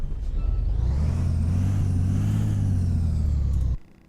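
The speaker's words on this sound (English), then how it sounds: "let's listen to the engine before we go in." A Scania 112/142 truck engine in American Truck Simulator rumbles at a deep, steady idle with a slight rise in pitch, then cuts off abruptly near the end.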